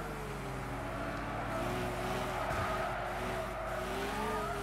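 A Lamborghini Aventador race car in Gran Turismo 6, its engine droning steadily with a sustained, shifting tone and occasional tyre squeal, loud and continuous throughout.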